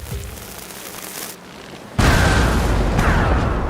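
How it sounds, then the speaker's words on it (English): Ship cannons fire in a naval battle, with a sharp loud blast near the two-second mark followed by sustained rumbling roar and a second burst, over a low background noise before. "Prepare the guns for battle."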